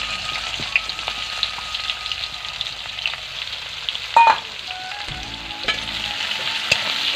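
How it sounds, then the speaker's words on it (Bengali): Onion frying in hot oil in a wok, a close, continuous crackling sizzle with a few clinks of stirring partway through, no voices. "পেঁয়াজটা একটু ভেজে নেবো"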